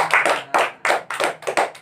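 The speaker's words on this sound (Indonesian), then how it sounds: "tepuk tangan kencang semua" A class of pupils clapping loudly in a classroom, in several bursts of rapid claps with short gaps between them, close and clear, without talk.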